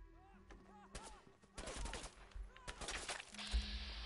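Gunfire in the Fallout 4 video game, a series of bursts and rapid shots in clusters, fairly loud, mixed with other game sounds.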